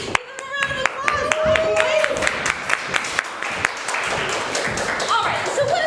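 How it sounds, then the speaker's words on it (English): An audience at a live show claps a round of applause, sharp individual claps at first building into denser crowd clapping, with voices and cheers mixed in. "Give them a round of applause."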